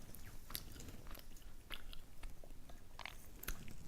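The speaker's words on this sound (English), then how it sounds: "Gonna bite. Really good." Close, quiet bites and chewing of potato steak fries with skin still on, crisp crunchy snaps spaced irregularly over soft mouth sounds, no talking.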